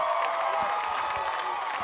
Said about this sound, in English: as you hear the Wapak fans cheering the